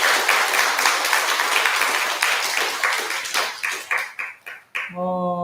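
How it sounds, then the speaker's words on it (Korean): A temple congregation applauds at a Buddhist prayer service, a strong burst of clapping that thins into slower scattered claps, then gives way to a ringing bell-like tone at the end. "큰 박수 한번 부탁드리겠습니다"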